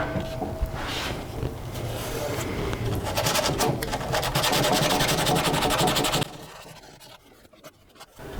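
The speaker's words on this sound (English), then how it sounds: "Just a little bit sanding there as well." Brief rhythmic scraping of sandpaper rubbing on a wooden furniture piece being prepared for primer, close and fairly loud, ending abruptly and followed by quieter handling noise.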